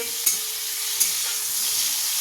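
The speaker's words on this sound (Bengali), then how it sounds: "তো এরপর কপি ভাজতে ভাজতে" Cauliflower frying in a pan sizzles steadily up close while a utensil stirs it, with two sharp metallic clinks against the pan.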